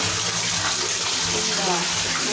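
Water splashes and runs steadily as a duck is bathed, a continuous close wash of sound with no clear pauses.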